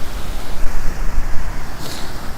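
Strong wind buffets the microphone on a Manhattan street at night, a loud rumbling, gusting roar with uneven swells and no voices.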